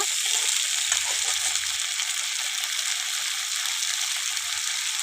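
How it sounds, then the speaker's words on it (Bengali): Cauliflower florets frying in hot oil, browning for a cauliflower curry, give a steady, close hiss of sizzling that holds throughout, with a few soft low bumps of stirring underneath. "লাল লাল করে ভেজে নেব"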